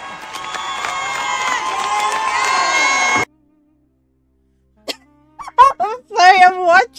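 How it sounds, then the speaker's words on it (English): A crowd cheering and shouting loudly for about three seconds, a dense roaring wash that cuts off abruptly, followed by silence and then a voice speaking. "Who the hell are cheering?"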